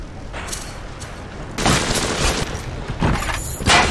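Rapid bursts of enemy gunfire in the video game Bioshock, dense and crackling, with heavier volleys swelling in the second half and no voices over it.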